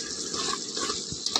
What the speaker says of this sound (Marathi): पाणी परत पाणी फेकलं